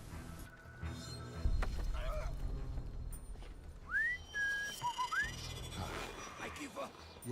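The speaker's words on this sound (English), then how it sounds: "whistle to distract the guy above and bring him down here" A stealth agent whistles to draw a guard down in Splinter Cell: Double Agent, with two or three short rising whistles over ambient game sound, and a voice is heard just before them.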